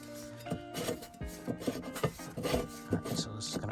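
A fuel pump part on a BMW E92 335i is unscrewed by hand, producing close rubbing, grinding and scraping with small clicks and knocks in an irregular rhythm.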